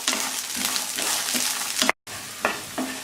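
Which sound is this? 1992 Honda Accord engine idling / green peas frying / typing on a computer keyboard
green peas frying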